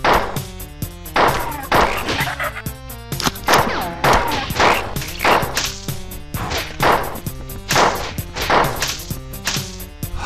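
Pistol gunfire in the Marathon video game: a rapid, steady run of sharp, cracking shots, one after another, loud and close, with a busy game backdrop and no talking.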